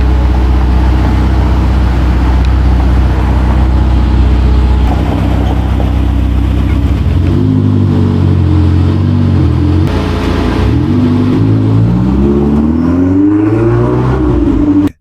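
A matte black Ferrari 488 engine revs loudly and steadily, then climbs and falls through sweeping pitch changes as the throttle is blipped, close and continuous with no talk.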